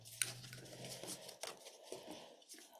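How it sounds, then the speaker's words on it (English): Tarot cards being shuffled loudly, poker-style, in a few quick riffling bursts with soft flicks and taps between them, close and alone. "like someone shuffling for a poker game"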